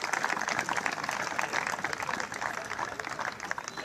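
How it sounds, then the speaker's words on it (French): Audience clapping steadily at an official ceremony launching the state examinations, a dense, sustained round of applause from a seated crowd, fairly close, with no break through the burst. "Si nous pouvons applaudir."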